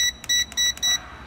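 Air cooler fan control circuit board giving three short, loud electronic beeps in quick succession as its button is pressed, each a clear high tone, close to the microphone.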